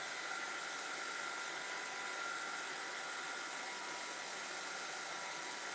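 A heat gun heat-setting a frame gives a steady, close, loud blowing hiss that holds evenly from start to finish, with no talking over it.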